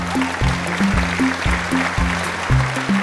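An audience claps in a steady, continuous wash of applause at a women's balloon-bursting game played with brooms. Loud rhythmic music and drum beats play alongside the clapping.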